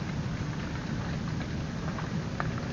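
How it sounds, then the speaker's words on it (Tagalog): Steady rain fills the scene with a dense, continuous hiss and patter, with no voices, holding an even level throughout. "walang tigil yung ulan dito sa amin"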